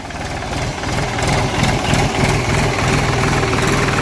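A heavy tractor engine idles steadily nearby, a low continuous chugging rumble with no voices.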